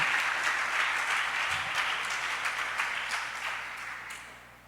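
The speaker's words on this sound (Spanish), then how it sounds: "Le da un aplauso fuerte a Jesucristo por eso" Church congregation applauding loudly during a sermon, a full, sustained burst of clapping that gradually fades toward the end, with a low hum underneath.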